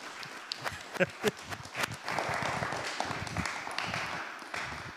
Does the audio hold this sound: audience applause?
yes